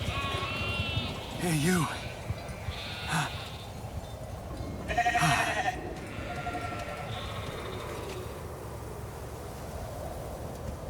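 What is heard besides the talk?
sheep bleating in The Alters video game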